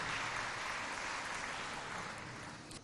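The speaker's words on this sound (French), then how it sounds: "je demande qu'on applaudisse très très fortement pour toutes ces associations et toutes ces organisations" Sustained applause from a crowd at an official ceremony in Chad, a dense wash of clapping that holds steady then slowly tapers toward the end, moderately distant.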